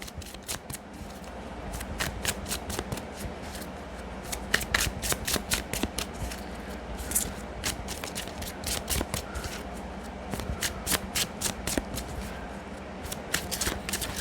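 Angel Medicine Oracle cards being shuffled by hand, a close, continuous run of quick riffling flicks and soft papery slaps in an even rhythm, without any voices.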